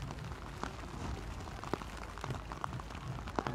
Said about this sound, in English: Probably hear the rain falling in a quite spectacular fashion.